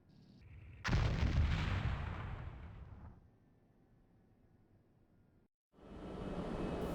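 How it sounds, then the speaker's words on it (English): A bomb explodes on a ground target in the flight combat game Strike Fighters 2, a loud booming blast that rumbles and fades over about two seconds, then quiet engine drone before another roar swells at the end. "Bombs away. The bomb is now tracking to the target, and it has established a glide slope."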